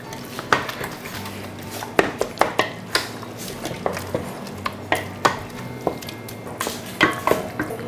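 A spoon stirs curd rice in a metal vessel, giving repeated clinks and scrapes at an uneven rhythm, close and moderately loud over a soft wet mixing background.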